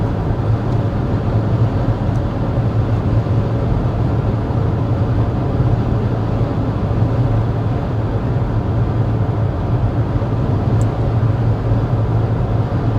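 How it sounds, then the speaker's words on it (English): A 2024 Mazda CX-50 Meridian Edition cruising at 55 mph, with a steady, loud broadband road and tire roar and low rumble filling the cabin throughout, no talking. "now that we're going 55 miles an hour, I will go ahead and have Josh get our sound level reading."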